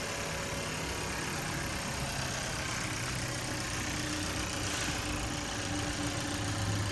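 A 2019 Chevy Cruze RS idles steadily after an injector replacement, giving a quiet, even engine hum that holds constant throughout with no voices.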